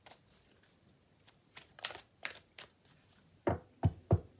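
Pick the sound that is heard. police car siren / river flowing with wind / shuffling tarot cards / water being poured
shuffling tarot cards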